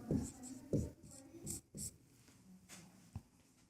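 A pen writes out a maths solution on paper, giving close, quiet scratchy strokes in short irregular bursts with small gaps between them.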